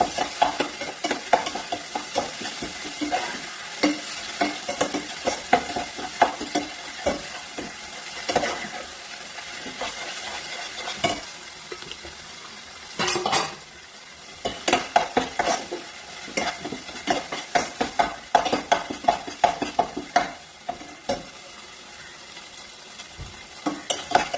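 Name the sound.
stirring goat brain frying in a pan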